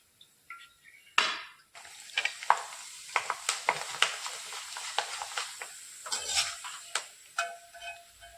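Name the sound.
grated potato shreds frying in hot oil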